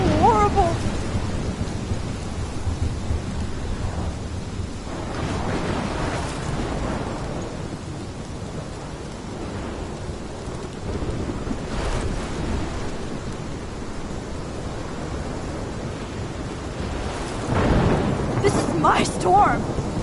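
A thunderstorm in the video game Life is Strange rolls on with heavy rain and repeated deep thunder rumbles that swell and fade, growing louder in a final surge.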